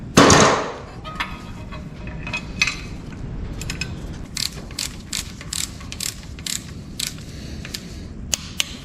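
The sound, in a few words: torque wrench tightening bolts on 6.0 LS engine covers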